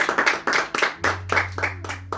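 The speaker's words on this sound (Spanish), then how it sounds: "Dale un fuerte aplauso para Cristo." A church congregation claps in a quick, rhythmic, near-unison beat of loud hand claps, with a low steady hum running beneath the second half.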